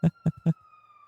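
An ambulance in a roleplay video game sounds three short, loud blasts in quick rhythm, and a thin, steady tone lingers afterward.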